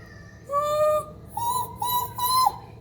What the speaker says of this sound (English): I'm just gonna go ahead and pretend like I'm gonna whistle